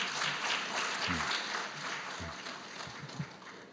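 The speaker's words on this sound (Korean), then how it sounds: "시상하느라 수고해 주신 우리 남두희 학회장님께도 큰 박수 부탁드립니다." Audience applause fills a hall during an award ceremony at the opening of the 2023 ITS society autumn conference, steady broadband clapping that stays fairly even and fades slightly toward the end.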